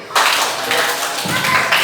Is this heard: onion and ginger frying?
no